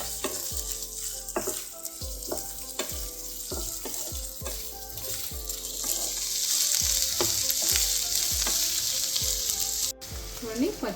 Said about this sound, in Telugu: హై ఫ్లేమ్లో పెట్టుకుని మనం ఇవి ఫ్రై చేసుకోవాలి